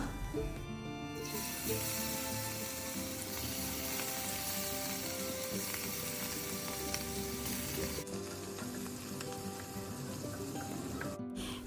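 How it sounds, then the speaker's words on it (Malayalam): Masala-coated fish fries in hot oil with a loud, dense, unbroken sizzle and crackle, close up, briefly dipping in intensity partway through. "ആദ്യം തന്നെ മസാല കൂട്ടി മീൻ ഇരിക്കുന്നുണ്ട് അതൊന്ന് ഫ്രൈ ചെയ്തെടുക്കാം"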